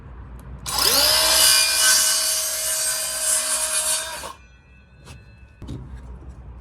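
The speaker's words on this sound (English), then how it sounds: "Your skill saw or whatever you're using to chop the wood with." A handheld circular saw cuts through a wooden block in one loud, sustained whining run that ends abruptly, followed by a couple of faint knocks.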